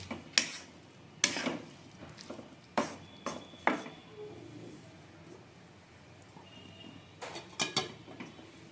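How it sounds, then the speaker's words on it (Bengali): A vegetarian drumstick vegetable curry with a pinch of sugar gets stirred in a pan, with sharp, separate scrapes and clanks of the spoon in short bursts over a quiet, low background hum. "এখন একবার ভালো করে নেড়ে নেব"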